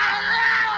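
A man in a movie scene, angry after his tire is shot out, lets out a sustained, strained, high-pitched scream. It is loud and continuous, heard alone.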